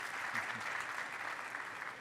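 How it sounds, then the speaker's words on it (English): Panel discussion audience clapping for the panelists, a steady, even spread of applause throughout, fairly faint, with a hint of a voice underneath. "Maybe a round of applause for the panelists"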